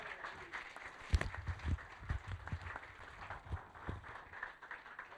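Scattered hand claps from a small gathering applauding runners, uneven and moderately close, with brief murmurs of voices underneath.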